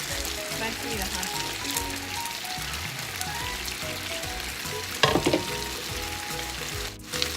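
Gyoza potstickers fry in a pan as the water cooks off, giving a steady close sizzle and bubbling throughout, with a brief louder crackle burst partway through.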